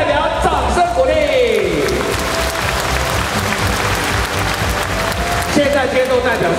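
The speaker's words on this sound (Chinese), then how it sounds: "给每个代表掌声鼓励" Applause from an arena audience greets returning delegation representatives, a sustained dense wash of clapping with voices running through it over music.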